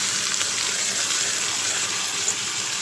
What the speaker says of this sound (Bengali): এখন আমি উস্তা আলু আর টমেটোটা দিয়ে দিব।